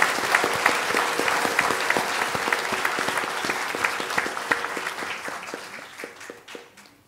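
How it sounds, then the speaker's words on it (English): A congregation claps at a perpetual profession ceremony, sustained dense applause with sharp individual claps throughout, steady and fairly loud before gradually thinning toward the end. "So let us give them a big applause."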